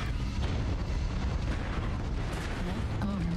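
In the MechWarrior Online video game, a mech fires its weapons in a dense, rumbling barrage of blasts and booms that continues throughout, with the noise of combat around it.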